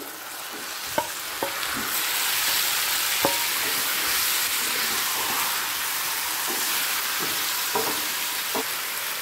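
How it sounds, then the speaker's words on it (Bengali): Marinated chicken for a hariyali chicken masala hits hot oil in a pan and fries with a steady, close sizzle, broken by a few sharp spatula clinks and stirring scrapes, with no talking. "এই সময় দিয়ে দেব ম্যারিনেট করা চিকেন।"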